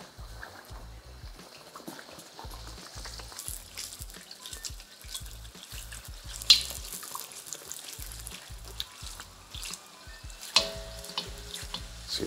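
Food frying in hot oil gives a steady sizzle with scattered pops and crackles, close and moderately loud, with no voices over it.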